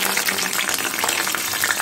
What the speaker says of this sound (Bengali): প্রথমে কালো জিরে আর কাঁচা লঙ্কা ফোড়ন দিলাম